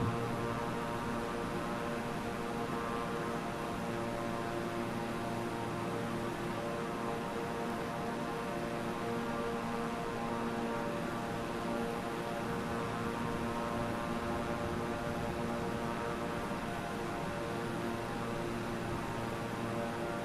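A plane engine drones steadily in Flight Simulator on Xbox Series X, a continuous even hum with layered tonal whine and no pauses, with no talking throughout.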